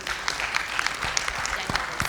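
A crowd claps in a burst of applause, many hands patting irregularly at moderate volume without pause.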